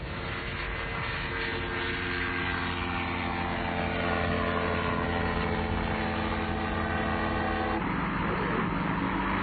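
Ultralight aircraft at an open-day airfield take off one after another to carry skydivers to altitude, their engines droning loud and continuous throughout, with a shift in pitch near the end as one passes.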